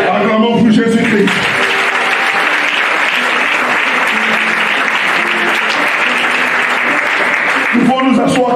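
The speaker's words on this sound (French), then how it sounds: "Acclamons pour Jésus-Christ" Church congregation breaks into loud, sustained applause and cheering during a service, a dense continuous roar lasting several seconds, with music or voices faintly at the start and end.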